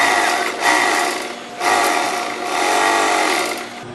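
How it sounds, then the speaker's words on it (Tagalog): An overlock machine runs steadily while finishing the edges of a pants patch pocket, loud and close, its fast whirring stitch dipping briefly between seams and then resuming, with no talk. "we might as well finish all the edges that needs to be run through by the overlock machine"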